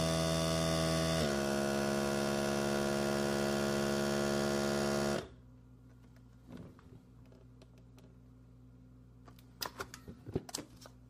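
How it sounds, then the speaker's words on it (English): A Food Saver vacuum sealer runs with a loud, steady motor hum that stops abruptly partway through, followed by quiet clicks and light handling noises as a pouch of liquid is sealed. "to vacuum seal our lunch"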